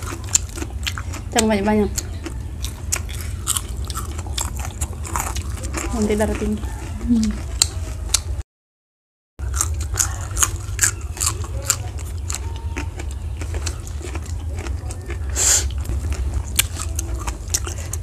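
Someone bites and chews salted fish with papaya leaves in a simple Indonesian home meal, the soft crunching and smacking coming in short bursts close to the mic while someone talks over it.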